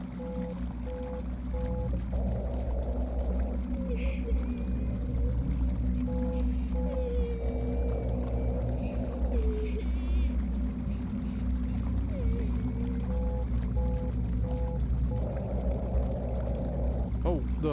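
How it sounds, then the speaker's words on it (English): Water rushing in and filling an enclosed space in the PC horror game Cursed Digicam: a continuous low churning roar that runs the whole time, with faint tonal game effects drifting over it. "the whole thing's filling up with water"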